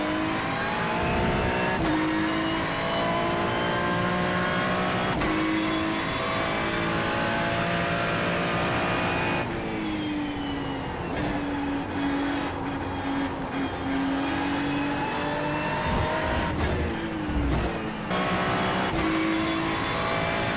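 A Ferrari 296 race car in iRacing at Interlagos, running with damaged front bodywork: a loud, continuous engine note that holds steady, then dips and climbs through gear changes and revs up again, with no talk.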